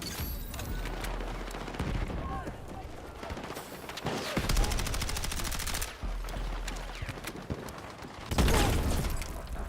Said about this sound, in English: And a grenade launch